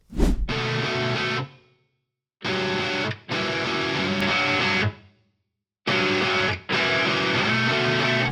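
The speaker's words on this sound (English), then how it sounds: "Here's what those split coil guitars sound like before and after." Distorted split-coil electric guitars play in short bursts separated by brief silences, loud and full, like a rock mix stopping and restarting.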